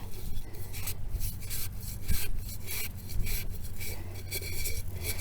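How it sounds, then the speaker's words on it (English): A sponge scrubber rasps against a clay olla, scrubbing off leftover garden soil in steady back-and-forth strokes, close and fairly loud, with no talking. "Then I use a sponge with a scrubber on one side,"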